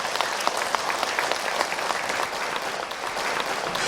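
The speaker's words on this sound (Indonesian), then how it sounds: "Tepuk tangan dulu, Bu." An audience at an Islamic religious talk applauds together, a dense, steady wash of many hands clapping at moderate volume with a few sharper claps standing out.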